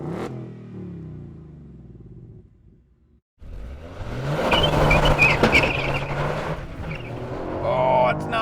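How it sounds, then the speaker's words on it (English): 2021 Toyota GR Yaris Rallye in sport mode doing a full-throttle launch, engine revs spiking then surging hard as the car accelerates, loud and close with a brief quiet pause before takeoff. "let's try and do a proper launch. So again, sport mode, flatten the throttle, revs will spike,"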